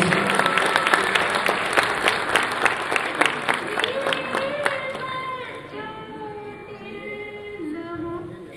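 A conference audience at an inaugural session gives a big round of applause, with steady dense clapping that tapers off after about five seconds, leaving a voice talking over quieter room sound.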